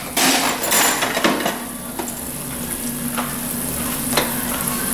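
Oil heating in a pan for beef stew, a close, steady sizzle and crackle with a few sharp utensil clicks against the pan and a louder burst at the start before settling into a constant hiss.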